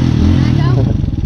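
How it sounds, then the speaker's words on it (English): A dirt bike engine revs up close and loud, with rough, rattling mechanical noise, and a voice is heard over the engine. "just go ahead and rev it a couple times"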